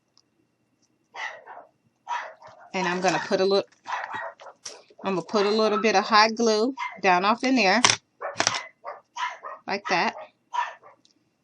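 Dogs barking and yipping indoors in the background while someone talks steadily close by during a craft project, the barks intermittent and partly buried under her voice.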